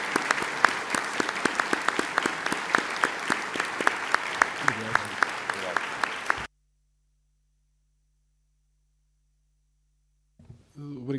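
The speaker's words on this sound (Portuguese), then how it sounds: "pedir aqui um aplauso para o professor Pavão Martins" An audience applauds Professor Pavão Martins at his academic retirement ceremony, giving a few seconds of loud, dense clapping with sharp individual claps before it cuts to silence, and a voice begins speaking at the end.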